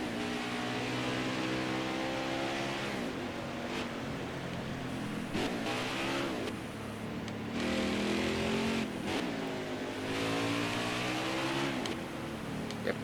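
A race truck engine in the video game NASCAR Heat 5 revs hard, repeatedly climbing in pitch through gears and dropping back, loud and continuous with tire noise.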